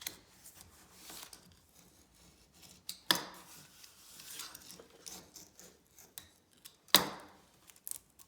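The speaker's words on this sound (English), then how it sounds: "And I'm just going to press it and cut as I go." Blade slicing through a sheet of floor covering pressed down over tile, heard as faint intermittent scraping and rasping cuts with two sharper snips, fairly quiet and close with no talking.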